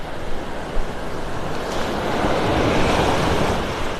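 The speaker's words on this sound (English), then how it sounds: "See what I mean about the sounds of the waves?" Steady ocean surf rolling onto a beach in North Naples, Florida, a continuous broadband wash that swells slightly toward the middle, with some wind noise and no voices.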